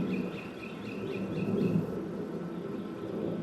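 Birds chirp in a short repeated series, faint and distant, over a steady low background rumble.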